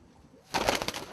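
A mated pair of Swallow breed color pigeons cooing close by, a short soft burst of throaty pigeon coos and rustling that starts about halfway through after near silence.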